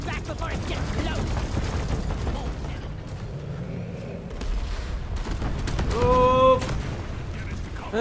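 Video game gunfire aimed at a box detonator enemy, with bursts of shots and mechanical clatter running under continuous talking, plus a brief bright tonal chime near the end.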